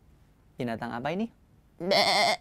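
Goat bleating in a children's story, a voice imitating the animal with a wavering, nasal bleat after a short spoken question, two close, clear bursts.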